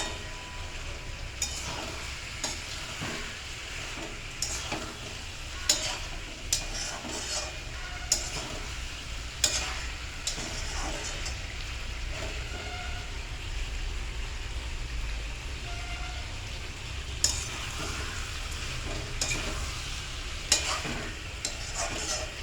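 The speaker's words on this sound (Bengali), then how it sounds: "এবার চিংড়ি দিয়ে সমস্ত সবজি আর মশলাগুলো দিয়ে এবার নাড়াচাড়া করা হচ্ছে।" Prawns stirred in a pan with vegetables and spices, giving a steady low sizzle broken by intermittent scraping and clinking strokes of the spoon, close and moderately quiet with no talking.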